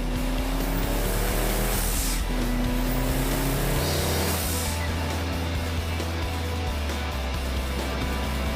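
A race car engine roars at Laguna Seca, loud and continuous, with an abrupt drop in pitch as it shifts gears partway through, heard over wind noise.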